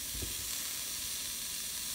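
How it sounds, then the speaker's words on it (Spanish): Three garlic cloves and half an onion toast in a frying pan for chicken mole de olla, giving a steady, fairly quiet sizzle with a faint stir near the start. "El mismo sartén vamos a ocupar para ponerle los 3 dientes de ajo y la mitad de cebolla"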